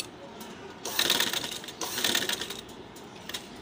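A sewing machine stitches the edge of a child's kurta in two short bursts of rapid whirring, separated by a brief pause, close by against a quiet room.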